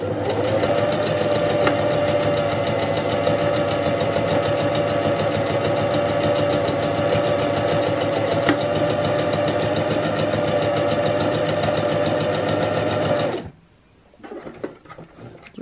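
A Singer 5523 sewing machine stitches a buttonhole in a steady, loud mechanical whir, running continuously for about thirteen seconds before stopping abruptly, leaving quiet handling noises.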